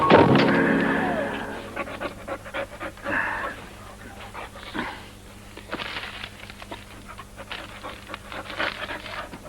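A dog pants steadily in a 1973 film scene, with quick, rhythmic breaths close up, a louder burst at the start, and faint rustles and footsteps around it.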